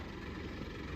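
A tractor engine idles on a rural road along a riverside pilgrimage route. It gives a steady, low, throbbing rumble, close and constant for about a second, with no voices.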